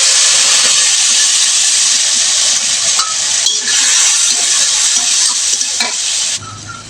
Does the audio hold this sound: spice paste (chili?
yes